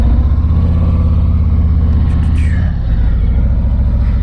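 A 2019 Harley-Davidson Road Glide motorcycle engine rumbles loud and close as the ride gets underway, a steady deep throb with a brief rise in revs partway through.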